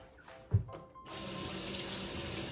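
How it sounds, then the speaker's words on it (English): Water runs steadily from a kitchen tap while hands are rinsed, a soft, even hiss following a brief splash. "I'm going to rinse my hands off."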